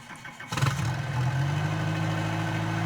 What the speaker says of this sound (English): As you can hear, really nice engine sounds I think from the aircraft